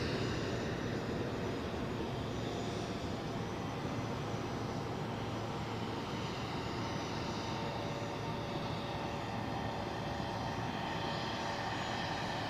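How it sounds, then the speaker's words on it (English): A large airliner at Zurich Airport produces a faint, distant, continuous jet roar that holds steady throughout with no voices. "Just an absolutely massive aircraft."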